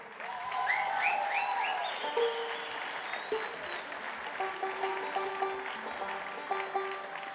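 Concert audience applauding a band at an evening show, a loud, dense clapping swell that peaks early and then slowly thins out as whistles and scattered cheers ring over it.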